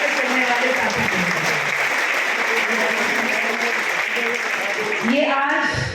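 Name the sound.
audience applause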